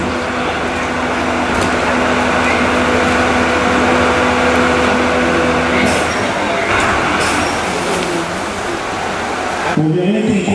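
A loud, steady rumble of a moving train fills the whole stretch, with a hum and a shift in tone near the end.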